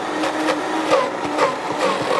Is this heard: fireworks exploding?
no